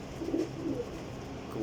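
Pigeon of an old native desi breed cooing, a few soft low coos close by, fairly quiet against a light background hiss.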